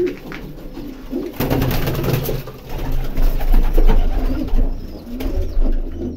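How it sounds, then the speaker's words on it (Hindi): Pigeons coo in low, throaty murmurs with some fluttering and scuffling as two of them fight, fairly close, over a soft background. "कबूतर लड़ते रहते हैं ये दोनों"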